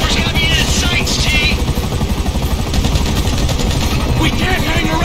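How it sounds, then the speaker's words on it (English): A helicopter chases in the GTA V mission Derailed, its steady rotor chop loud and continuous, blended with bursts of gunfire and game action noise throughout. "The chopper's got me in its sights"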